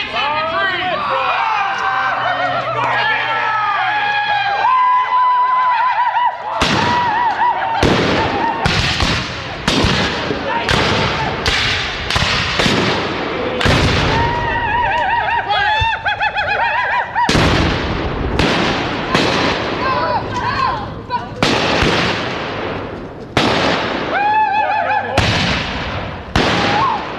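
Musket volleys at a Civil War reenactment ring out in a long series of sharp, loud cracks, some in quick clusters, with shouted commands and voices between shots.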